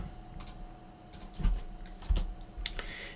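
Typing on a computer keyboard: scattered key clicks and a few louder thumps at an irregular pace, close by and fairly quiet over a faint steady hum.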